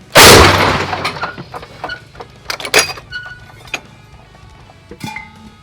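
Artillery gun of the 77th brigade firing a shell on the Borova front: one loud, close blast at the start that rolls off into a long rumbling decay, with scattered metallic clanks and knocks afterward.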